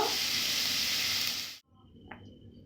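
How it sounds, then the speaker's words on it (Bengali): Crab frying with chili powder in a pan gives a loud, steady broadband sizzle that cuts off abruptly, followed by quiet room tone with one brief clink. "গুঁড়ো লঙ্কা দেওয়ার পর দু মিনিটের মতো ভেজে নিয়েছি"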